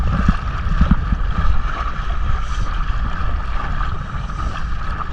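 A small outboard motor on a dinghy runs flat out. The drone is steady and close, with rushing water and wind noise over it and no talking.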